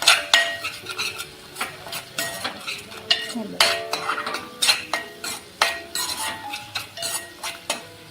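A spoon stirs a peanut and spice paste usal in a metal pan, giving regular scraping clinks against the pan over a quiet sizzle of frying, close and steady for several seconds.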